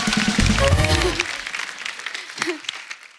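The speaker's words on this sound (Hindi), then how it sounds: "चलो एक बार जोरदार ताली श्रद्धा के लिए।" Studio audience applause on a comedy talk show, a loud burst of clapping and cheering that swells over the first second and a half, then tapers into lighter scattered claps with faint voices.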